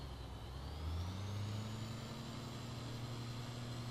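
A milk tanker or fuel truck drives past on a farm road, its engine a steady, droning rumble that climbs in pitch as it gathers speed, heard alone without talk.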